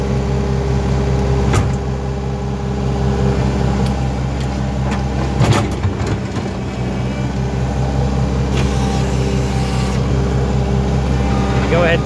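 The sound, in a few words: skid steer engine pushing brush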